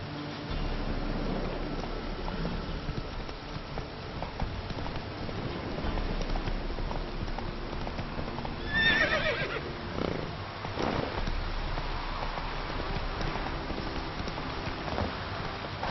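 A horse in the video game The Witcher 3 neighs once over steady hoof clatter and a rumbling outdoor ambience, with the hoofbeats continuing throughout.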